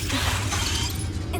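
Confringo blasting spell impact in Hogwarts Legacy, heard as a dense, loud burst of crackling, shattering debris over a heavy low rumble, lasting about a second and a half.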